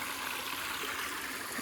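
Bear Rock Stream, a water source along the Appalachian Trail in Connecticut, rushes and trickles steadily, a dense even wash of flowing water close by with no voices.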